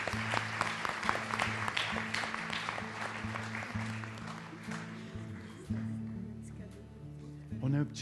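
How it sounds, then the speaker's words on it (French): Audience applause at a French-language church service, a dense patter of clapping that thins as it goes, heard under a speaker's voice and a low sustained musical tone. "On les applaudit ensemble."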